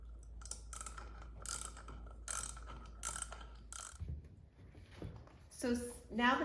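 Lag bolts are driven through a garage door opener bracket into a 2x4, with about five short bursts of mechanical ratcheting spaced close together, followed by a voice speaking near the end.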